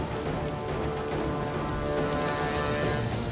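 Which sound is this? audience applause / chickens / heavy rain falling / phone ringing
heavy rain falling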